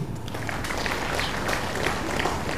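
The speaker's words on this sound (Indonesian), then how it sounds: "Tepuk tangan dulu." An audience claps and applauds at a formal assembly attended by officials and their wives, with dense, steady clapping throughout and no clear talk over it.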